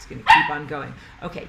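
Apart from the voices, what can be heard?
dog barking and squeaking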